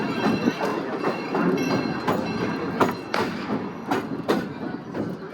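A small amusement park train at Cedar Point rumbles along with rhythmic clicking and clacking of wheels on track, irregular thumps recurring over steady rolling noise.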